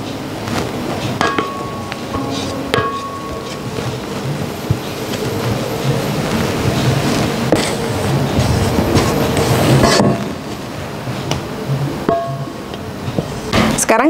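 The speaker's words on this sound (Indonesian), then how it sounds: "Sekarang kita kocok putih telurnya sampai kaku. Kita gunakan lagi mixer Mito MX100 dengan balon wish." A Mito MX100 hand mixer fitted with a balloon whisk beats egg whites for a banana cake, giving a steady, loud, rattling mechanical drone that runs unbroken for the whole stretch, with occasional clicks and knocks.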